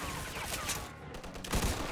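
Gunfire in the Mafia 2 video game, a dense fusillade of overlapping shots with a louder burst near the end, continuous and fairly close throughout the short stretch.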